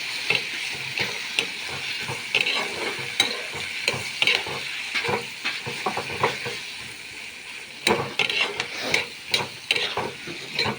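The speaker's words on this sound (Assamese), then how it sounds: "লাহেকৈ হিলাই দিম।" Fish curry with spices fries in a pan while being stirred, giving a steady sizzle broken by irregular scraping and clattering strokes, close and without talk.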